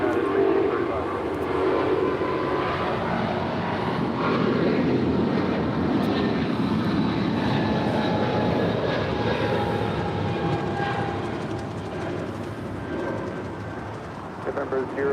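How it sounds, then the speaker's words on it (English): A United Boeing 777-200ER heavy jet departs LAX bound for Washington Dulles, its broad engine roar steady and loud throughout, easing off slightly near the end, with a voice talking faintly underneath. "Our next departure is United 1635 Heavy departing to Washington Dulles on a 777-200ER"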